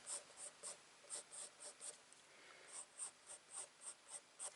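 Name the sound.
pencil drawing fir tree branches on paper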